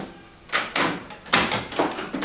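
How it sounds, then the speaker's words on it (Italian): The front paper tray of a Dell printer slides open in a few short plastic thunks and scrapes, close by and fairly loud, with no voices over them. "Qui sul frontale si apre e abbiamo il cassetto per infilare i fogli"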